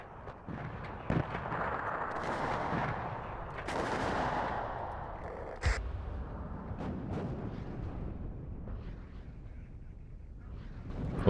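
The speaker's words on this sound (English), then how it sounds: "nice artillery hit the mark" Artillery fire in the WARNO video game, a dense barrage of booming impacts and crackling gunfire rolling continuously, with sharp louder blasts standing out near the middle.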